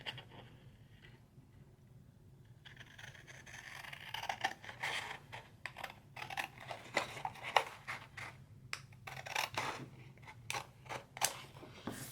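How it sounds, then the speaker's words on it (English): Scissors snipping paper during an accordion-book craft project, a quiet series of short crisp cuts and rustles close by, with no talk. "I'm going to go ahead and do this with my scissors"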